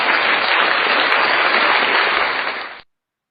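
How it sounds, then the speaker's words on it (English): Applause for guest Goose Park on a talk show, a dense steady wash of clapping, loud and unbroken, fading briefly before cutting off abruptly into silence. "Let's just give him a round of applause before we even get into the show."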